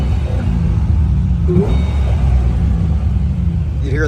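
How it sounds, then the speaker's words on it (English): Muscle car engine with a supercharger blower runs steadily and loudly, a continuous low rumble with faint whine on top and no pauses, with no talking over it. "You hear that blower whine,"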